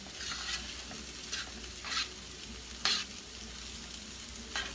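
Soft, continuous sizzle of paella frying in a pan, with occasional brighter crackling bursts as it crisps, fairly quiet and without talk.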